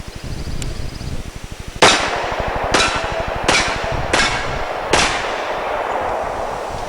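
Five sharp gunshots ring out at steel targets on a shooting range, each blast followed by a metallic ring and decay, spaced about a second apart after a steady low rumble.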